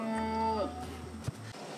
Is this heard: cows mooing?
yes